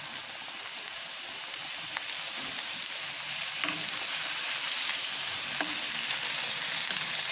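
Tuna steak fries in a soy sauce marinade, giving a continuous bright, close sizzle with a crackling, rain-like texture that grows slightly louder over several seconds, no voices.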